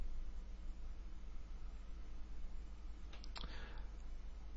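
A couple of quick, faint computer mouse clicks land close together near the end of a quiet stretch with a low background hum.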